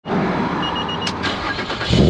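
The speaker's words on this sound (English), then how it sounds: "Of course, the startup. The startup is always beautiful." An Infiniti G35 with stock mufflers and stock exhaust starts up, a loud, steady engine rumble that holds close and strong, swelling slightly louder near the end.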